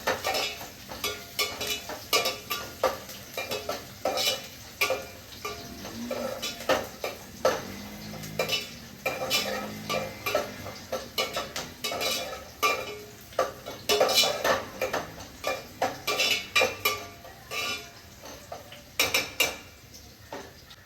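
Onion fries in a pan while being stirred, with a steady run of close metal scrapes and clinks over a soft, constant sizzle.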